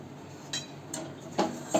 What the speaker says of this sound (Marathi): चिकट असतं ना पीठ, त्याच्यामुळे थोडंसं तुम्हाला भांड्याचा आवाज येईल.